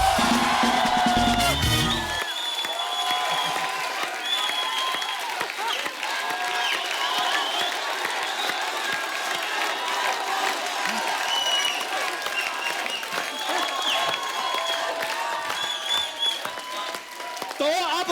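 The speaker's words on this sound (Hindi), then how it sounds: "एक बार जोरदार तालियां हो जाए।" Loud, sustained audience applause with cheering and whoops fills the hall throughout, following the on-stage welcome of Bollywood superstar Salman Khan at a live show.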